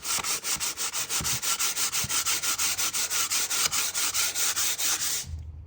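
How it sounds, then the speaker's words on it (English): Steady back-and-forth sanding of lacquer on a wooden window, about two dozen even rasping strokes in a quick regular rhythm, loud and close, stopping abruptly at the end. "when you sand stuff like this, make sure that you go out far enough"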